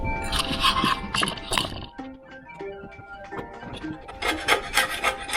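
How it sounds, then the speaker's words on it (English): Rasping, scuffing scrapes as old gasket material is worked off a 1965 Chevy 283 timing cover, in bursts of close, uneven strokes with a quieter stretch of lighter scratching and clinks in between. "scrape around the back of this thing again."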